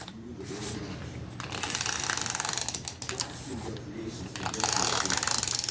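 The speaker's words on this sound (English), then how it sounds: "My tape runner is not running right" A tape runner that is not running right lays adhesive onto a bullet journal page, giving close, dry scratchy rasps and clicking, ratchet-like ticks in irregular bursts, with no talking.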